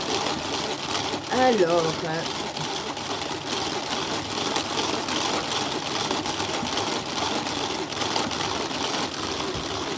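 Crème fraîche being whipped with a Tupperware hand mixer, a steady whirring buzz running throughout under a voice speaking French.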